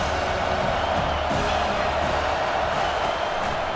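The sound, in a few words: stadium crowd cheering, from the video game EA Sports College Football 25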